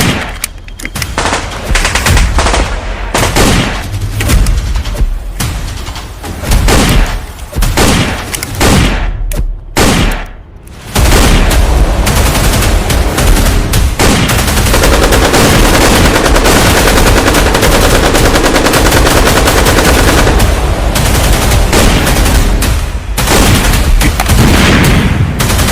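Machine gun fire in a war film rattles in rapid, loud bursts that build into continuous heavy gunfire after a brief pause, with no talk over it.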